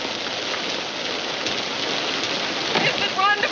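Steady, close rain pours down with a dense, even hiss that never lets up, and faint voices sound beneath it toward the end.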